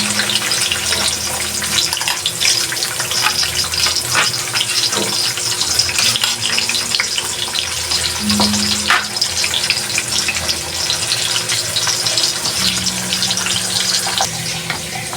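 Thin slices of ham frying in a pan give a steady, close hiss and crackle that runs unbroken throughout, with faint sputters and no talking.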